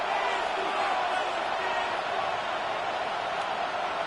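A football stadium crowd roars steadily ahead of a third-down play, a broad, sustained wall of cheering with play-by-play commentary running over it.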